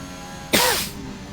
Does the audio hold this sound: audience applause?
no